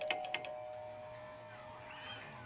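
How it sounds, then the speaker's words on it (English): Faint, distant doorbell chimes from the video game Green Eyes sound twice in quick succession, then fade into a quiet ringing tail with no speech. "She would never ring the doorbell so many times."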